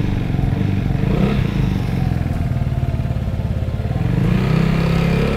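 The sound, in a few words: Vespa scooter with aftermarket exhaust riding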